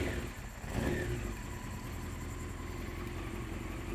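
A 1993 Honda CBR900RR motorcycle engine in a garage fires up with a brief burst, then settles into a steady, close, continuous idle with no talking.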